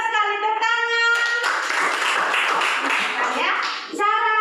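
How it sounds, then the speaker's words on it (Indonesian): Children clapping their hands together in a classroom, a dense burst of quick overlapping claps lasting a few seconds, framed by a voice speaking before and after. "Pintar sekali, tepuk tangan."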